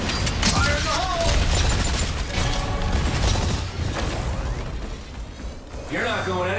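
Booming explosions and mechanical clatter from the video game Exoprimal, with dense bursts, whooshes and rumbling, loud and close, under game voices speaking.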